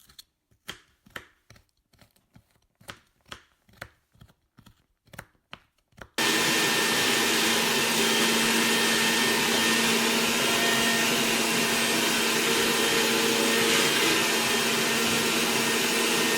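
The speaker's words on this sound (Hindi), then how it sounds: "ये चावल पीस रहे हैं" A mixer grinder grinds rice in a home kitchen: a few sharp tapping knocks come first, then the motor starts abruptly into a loud, continuous whirring roar that holds steady to the end.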